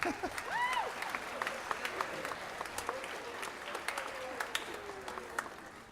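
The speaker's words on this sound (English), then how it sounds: "So how about another round of applause for those trumpets?" An audience at a 7th and 8th grade spring band concert applauds the trumpet players: dense, steady clapping filling the room, with a few higher vocal cheers or whistles rising above it near the start.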